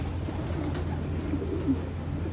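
Racing pigeons coo softly in a loft after returning from a race, a steady low murmur of several birds over a constant background hum, with no talking.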